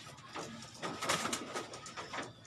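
Racing pigeons coo softly in a loft, with a few gentle, repeated throaty calls that rise and fall, plus light rustling in the background.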